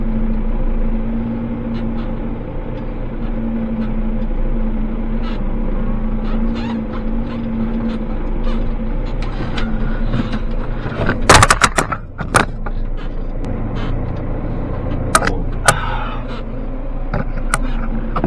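Tractor driving over rough, muddy ground that was once woodland, a steady low engine drone with jolting knocks and rattles in the middle and toward the end, no talking.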